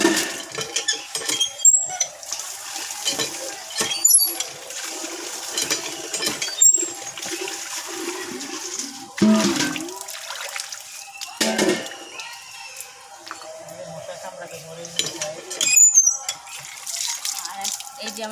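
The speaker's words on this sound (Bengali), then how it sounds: "এমনি আজকে জল দিয়ে পরিষ্কার করে দিচ্ছি" Water running and splashing with clinks and scrapes of utensils during household cleaning, an irregular wash-up clatter of metal and dishes that sounds close by.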